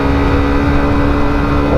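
A Sinnis GPX 125 sportbike engine held high at its red line, a steady, loud, buzzing drone that is close and continuous without a break.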